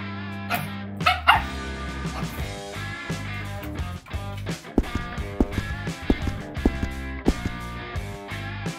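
A dog barks in repeated bursts over a loud, busy music track that dominates the mix, the yaps sharp but partly masked by the music.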